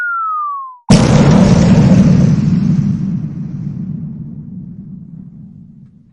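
A loud, sudden explosion effect hits after a short rising-to-falling tone, then a deep rumbling boom that slowly decays over several seconds, with no voices.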